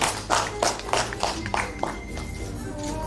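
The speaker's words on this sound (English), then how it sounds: "Please a hand clap again." Several hands clap in a quick, uneven burst at a news event honoring a newly appointed planning and economic development minister, the claps loud at first and thinning out over a few seconds.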